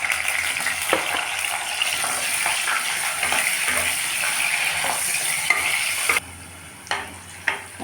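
Onions sizzle in hot oil with cloves and cardamom in a pan, a steady close crackling fry with occasional stirring scrapes, fading to quieter sizzling and a few utensil knocks near the end.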